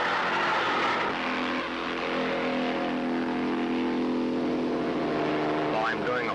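Onboard sound of a stunt motorcycle doing a wheelie at around 90 miles an hour on a drag-race track: a loud, continuous engine drone with wind rush, and a voice talking over it.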